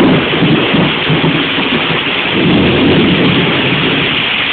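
Heavy rain pours steadily from a sudden thunderstorm in Juana Díaz, with thunder rumbling low beneath a dense, unbroken wash of rain noise and no voices.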